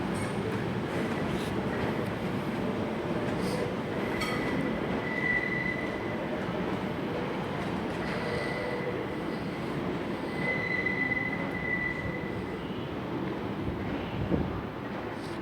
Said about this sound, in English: This is 345017. I think this might be a terminating service from Hayes and Harlington.